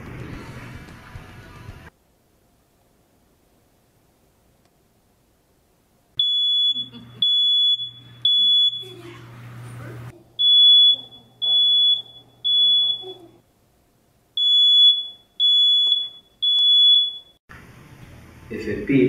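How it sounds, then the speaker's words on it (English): A home smoke detector being tested with its test button, sounding a loud, shrill beep pattern in repeated groups of about three or four beeps with short gaps between them, close and clear. "If it beeps, your detector is working."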